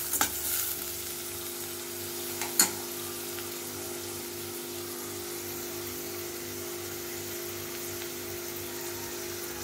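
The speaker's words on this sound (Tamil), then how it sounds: "வெட்டி வச்ச வெங்காயத்தையும் பச்சை மிளகாவையும் சேர்த்தாச்சு. சேர்த்து இனிமேல் நம்ம இதை நல்லா வதக்கிடுவோம்." Chopped onion and green chilli sizzle steadily in a hot pan for a small-fish (nethili) stir-fry, a continuous close frying hiss with a couple of brief stirring scrapes near the start.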